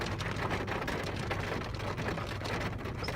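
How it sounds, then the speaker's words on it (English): Heavy rain pours down steadily during a thunderstorm, a dense, even hiss of drops on surfaces with a faint low rumble beneath, no voices. "Hear that rain coming down?"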